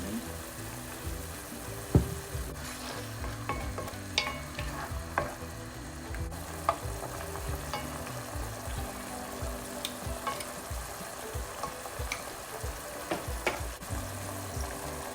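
Bitter beans (sato) tossed with oyster sauce and shrimp in a hot wok give off a steady loud sizzle and frying crackle, with irregular scrapes and clinks of the spatula stirring throughout.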